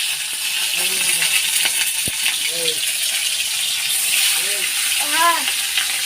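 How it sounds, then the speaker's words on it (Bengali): Hilsa fish frying in a hot pan gives a continuous bright sizzle throughout, with faint short voiced sounds rising and falling over it. "এটা ইলিশ মাছ ভাজা হবে ভালো করে কড়াটা গরম হয়ে গেছে আর আস্তে আস্তে দিয়ে দেবো"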